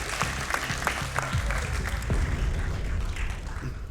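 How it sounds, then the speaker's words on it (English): Crowd applause fills an arena at a BLAST Premier Counter-Strike esports event in London, a steady, dense wash of clapping that holds throughout at close range. "Big round of applause, guys."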